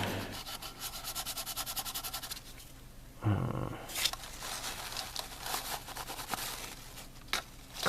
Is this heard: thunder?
no